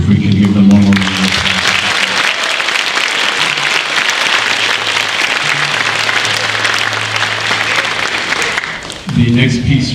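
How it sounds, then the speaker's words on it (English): An audience at a school winter band concert for an 8th grade band claps in sustained, dense applause lasting several seconds, loud and close, with a voice speaking briefly at the start and end. "If we can give them one more round of applause."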